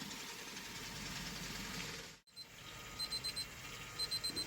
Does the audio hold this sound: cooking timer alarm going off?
yes